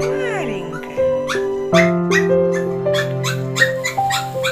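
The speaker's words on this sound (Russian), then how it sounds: "Маленькая такая собачка." Small Cavalier King Charles Spaniel puppy, a female, gives a series of high squeaky whimpers and yips, close and fairly loud, over steady room tone with someone talking to her throughout.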